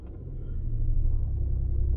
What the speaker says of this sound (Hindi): गाड़ी आगे जा रही है।